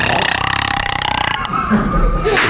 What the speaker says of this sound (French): Peux-tu roter avant que je t'envoie